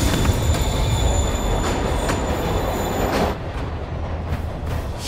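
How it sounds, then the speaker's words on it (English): A train rolls along the tracks in the Spider-Man PS4 video game, a loud continuous rumble with squealing wheels and high metallic whining tones, dropping slightly in loudness toward the end. "Train's moving."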